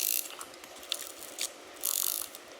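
A hand ratchet tightens bolts during a liner and piston install on a Cummins N14 diesel engine, giving quick bursts of rapid clicking that pause between strokes. The sound is close and clear, with no voices.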